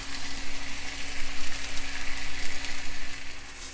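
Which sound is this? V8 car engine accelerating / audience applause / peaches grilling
peaches grilling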